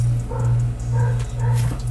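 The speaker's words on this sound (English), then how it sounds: "That dog probably barks all night long." A dog barks repeatedly at a distance, a few muffled yips and woofs over a steady low indoor hum, with no talking.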